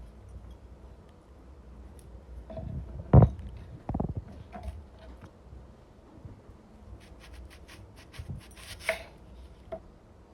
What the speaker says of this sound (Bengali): আপেলগুলো আমি এখন স্লাইস করে কেটে নিচ্ছি, বড় বড় পিস করে